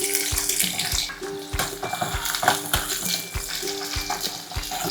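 Garlic and onion frying in hot oil in a pan, a constant crackling sizzle punctuated by regular knocking strokes of a spoon stirring against the pan.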